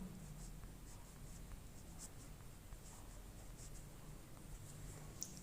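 Pen writing on paper, soft faint scratchy strokes in short bursts close by, steady under a quiet background hum.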